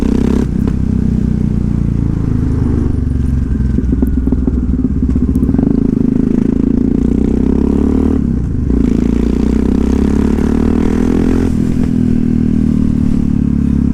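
A Yamaha MT-03 motorcycle engine drones steadily while riding, loud and close, mixed with rushing wind and road noise and occasional clatter and thumps.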